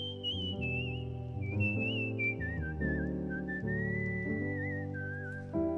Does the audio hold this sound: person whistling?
yes